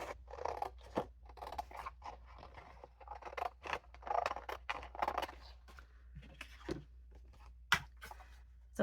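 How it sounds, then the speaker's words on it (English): Scissors snipping through paper while cutting out card medallions sized for a 2-inch punch, a string of close, crisp cuts and rustles in an irregular rhythm, no talking. "So let's cut this off so we can get to those."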